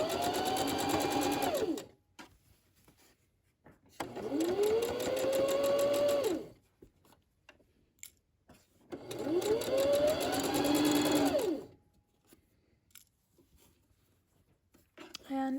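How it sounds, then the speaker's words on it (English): A sewing machine stitching a placket onto wrap pants runs in three steady bursts of a couple of seconds each, with quiet pauses between them and a short fourth start at the end. "So this line of stitching I'm making now is going to attach the placket"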